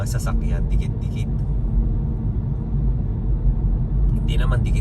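Cars creep in dense, slow traffic on an icy winter road in Canada, a steady low engine and tire rumble heard from inside a vehicle, with voices talking at the start and end.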